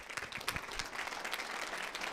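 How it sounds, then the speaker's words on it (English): Applause for a keynote speaker at a Sacramento graduation ceremony: a faint, distant, steady patter of many hands clapping throughout. "Please give him a round of applause."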